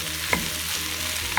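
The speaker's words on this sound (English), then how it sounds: "Give it a little stir. And we're gonna let that saute for about 5 minutes." Onion, carrots and celery sauté in a pan for a Bolognese sauce, giving a steady close sizzle with two brief stirring scrapes, each about a second apart, and no talking.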